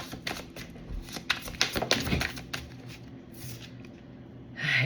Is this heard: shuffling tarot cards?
yes